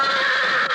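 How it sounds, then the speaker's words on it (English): Champion, Gene Autry's horse, lets out a short, loud whinny with a bright, quavering tone, heard alone on an old-time radio show recording. "Gene Autry's champion, the world's wonder horse."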